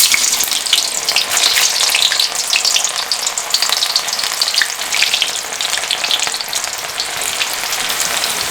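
Cauliflower pieces for gobi manchurian frying in hot oil in small batches: a bright, continuous sizzling hiss with fine popping bubbles, close and steady throughout with no voices.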